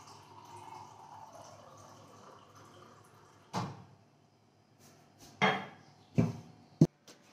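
Cold water is mixed into a Glucon-D drink: a soft low trickle, then several separate clinks and splashes close by, with a sharp tap near the end.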